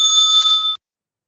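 A single bright bell rings once for a debate timekeeper, a clear, loud metallic tone that sustains for under a second and then cuts off into silence.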